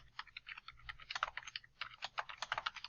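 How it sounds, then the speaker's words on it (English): Rapid, irregular clatter of keys on a computer keyboard, close and fairly quiet, with bursts of keystrokes and brief pauses, no talking. "on your keyboard, delete that and type in"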